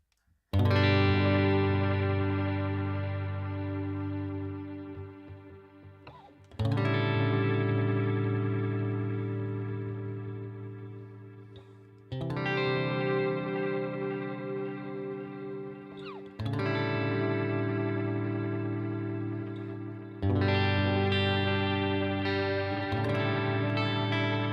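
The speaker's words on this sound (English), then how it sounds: "Right then, mod tape, space echo." A guitar run through the X-Gear X-Time pedal on its mod tape space echo setting rings out in five loud sustained chords, each fading slowly with warbling, smeared repeats before the next strike.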